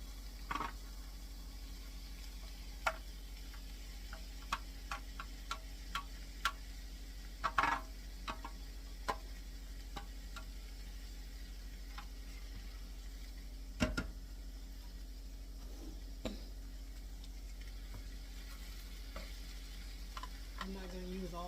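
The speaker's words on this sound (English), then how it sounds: "I am going to start adding my veggies to this mixture." Vegetables, squash among them, dropped into a cooking mixture in a pan, giving a steady low sizzle with scattered sharp clicks and clinks of stirring throughout, close and fairly quiet, no talking.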